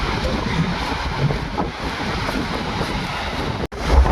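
Rough monsoon sea waves surge and crash below a seafront railing at Harihareshwar, a dense roaring wash mixed with heavy wind buffeting the microphone, with a sharp dropout near the end.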